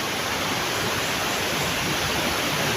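River flowing through a forest, a steady broadband rush of moving water heard close and alone, without voices.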